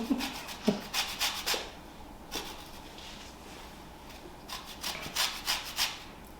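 A lemon being zested on a grater, brisk rasping strokes in short clusters with brief pauses between them, close and fairly quiet.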